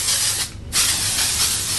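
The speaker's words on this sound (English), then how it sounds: "Dan, sorry, I'm stealing the last of your texture spray." Two short bursts of texture spray hiss from an aerosol can onto hair, close and loud, split by a brief pause, with no talking.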